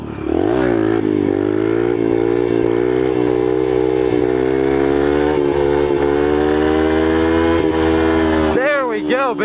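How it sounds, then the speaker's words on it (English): A pit bike engine revs hard and high through a long wheelie up a street, a loud, close, rising whine that holds steady for several seconds before snapping off into quick sharp rev blips. "I'm going to wheelie all the way up the street."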